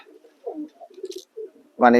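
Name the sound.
pet pigeons cooing on a rooftop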